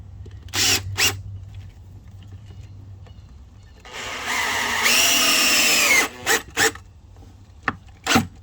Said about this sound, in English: We'll get a screw started in here.